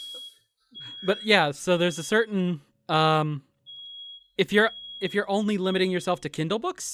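A high, steady electronic alarm beep sounds intermittently in the background while two people keep talking over it in a close, conversational exchange.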